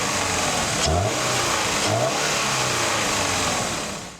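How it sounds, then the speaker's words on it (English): A Toyota GR86 fitted with an aftermarket air intake accelerates, its engine pulling loudly and steadily with two distinct rising surges of revs and a strong, continuous intake roar, close to the microphone. "That's intake pull when you accelerate. You can actually hear the engine breathing now."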